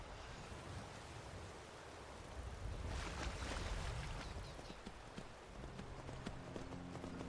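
Horse hooves clip-clop steadily at a trotting pace in the video game Skyrim, over a wash of broad, airy background noise, moderately loud and close.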